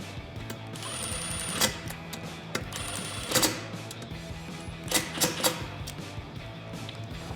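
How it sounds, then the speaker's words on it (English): Bolts go onto the intercooler diverter valve of a Ford F150 EcoBoost, with faint metallic clicks and ratcheting taps at irregular intervals over a steady background hum. "Now I can install my two bolts."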